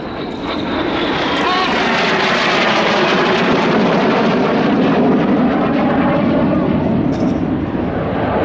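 A Red Arrows jet roars continuously overhead while pulling a high-g carousel turn in an aerobatic display, a loud sustained engine rush that swells slightly and fills the whole stretch.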